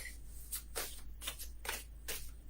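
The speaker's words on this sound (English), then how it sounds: "as I shuffle and feel the cards, hear the cards" Tarot cards being shuffled in several quick riffling bursts, crisp papery flutters close to the microphone, with no talking.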